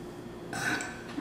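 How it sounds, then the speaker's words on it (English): A single short burp after a casserole meal, a brief rough belch heard up close and alone in a quiet room. "I gotta burp."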